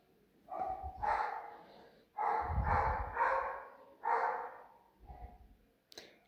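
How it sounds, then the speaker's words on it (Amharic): A dog at home in a kitchen barks in loud, close bursts, roughly five barks in uneven groups across several seconds, with a brief click at the end. "ውሻ በጣም እየረበሸኝ ነው። ለውሻው ድምጽ በጣም ይቅርታ።"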